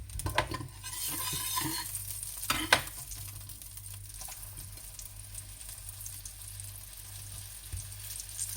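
Lamb rissoles fry in oil in a pan, giving a steady close sizzle with occasional stirring clatter and brief pops, and no one speaks.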